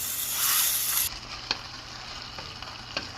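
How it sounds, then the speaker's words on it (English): Shirataki noodles sizzle in a pan, with a loud hiss at the start that then drops to a quieter steady fry, broken by a few sharp scraping stirs close by. "Give it a good stir so it doesn't stick."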